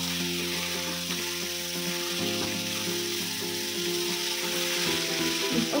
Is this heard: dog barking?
no